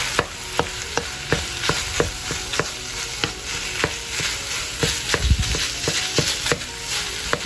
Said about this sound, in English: Gisahin lang natin to, guys.